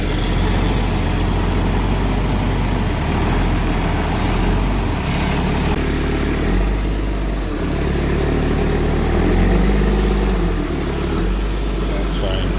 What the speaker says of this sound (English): Just running that filter caddy off a little Ryobi inverter